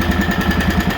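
An Argo ATV engine idles after an oil change with a steady fast chugging pulse and mechanical ticking, close and even, alone without talk.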